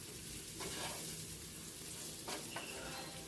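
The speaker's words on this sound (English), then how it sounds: "And then I just stir it around. Make sure everything's in the oil." Poblano peppers sizzle quietly in hot oil as they are stirred, a soft continuous fry with a few brief scraping stirs.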